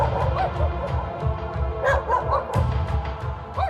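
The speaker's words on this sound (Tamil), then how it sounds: "விஷ்ணு வளர்த்து வந்த நாய் சரண் சிங் வீட்டு முன்பு நின்று நீண்ட நேரம் குரைத்ததை" A pet dog barks in front of a neighbour's house, giving several short barks and yips over a steady low hum, at moderate distance.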